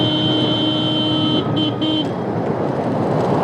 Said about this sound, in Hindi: मैं भाई हॉर्न मारते हुए चला क्योंकि बंदे ओवरटेक ले ले रहे ट्रकों से।